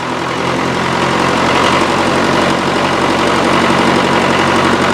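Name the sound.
tractor engine running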